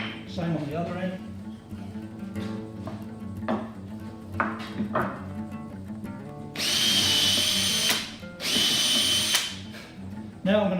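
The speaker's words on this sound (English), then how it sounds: "Now I'm going to drill a hole in between those 2" Tool handling and knocks, then a power drill bores into wood in two loud bursts separated by a short pause, while building a sawhorse.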